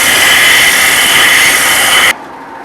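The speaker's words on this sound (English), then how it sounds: "We still got a spot right here that's not quite sanded yet, so we're not hitting all the way around." A custom exhaust header flange for a blown small block being sanded flat, a loud, steady, close abrasive rasp that runs for about two seconds, then stops abruptly.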